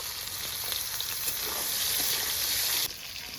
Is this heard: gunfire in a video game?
no